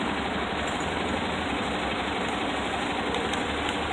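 A Piaggio MP3 500 ie scooter idles at a traffic light, giving a steady low engine chug with even vibration and no voices over it.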